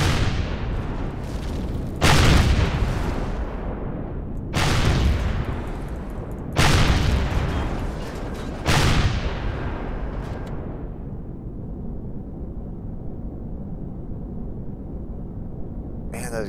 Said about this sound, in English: Rocket straight to the front.